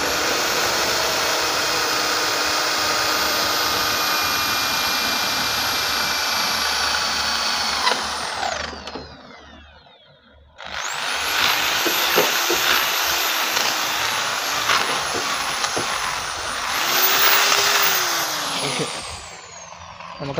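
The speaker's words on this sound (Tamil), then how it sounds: "இப்போ நம்ம அந்த பஞ்ச் பண்ண இடத்துல ஒரு ஹோல்ஸ் போட்டுக்கலாம்." An electric drill bores a small 4–5 mm hole at a punched spot on a Honda Hornet motorcycle's handlebar, whining loud and close in two long bursts separated by a brief pause, with pitch sliding as it spins down.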